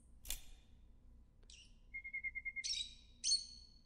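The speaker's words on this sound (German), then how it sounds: "Da ist ein Vogel." A bird in the video game Virginia gives a short sharp chirp, then brief tweets, a long steady whistled note and two bright chirps, close and clear against near silence.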